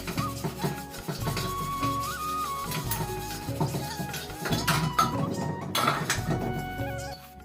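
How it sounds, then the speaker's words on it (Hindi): A kadhai and a pressure cooker are scrubbed and rinsed after making ghee, giving steady clinks and scrapes of metal cookware with running water under continuous kitchen noise, no talking. "घी निकालने के बाद जो बर्तन हुए थे, जैसे एक कढ़ाई थी और कुकर था, तो मैंने सोचा इनको ना साथ के साथ साफ़ कर देती हूँ।"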